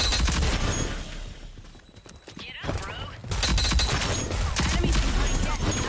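Gunfire in the shooter game Rogue Company strikes the player's character, a dense rattle of close shots and impacts that drops briefly midway, then returns loud and sustained amid busy game noise.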